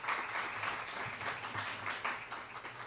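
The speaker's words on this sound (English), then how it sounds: "let's give another round of applause for all the Director's Award winners." An audience at a student recognition banquet applauds award winners, a steady wash of many hands clapping at moderate distance, fairly soft and continuous for the whole stretch.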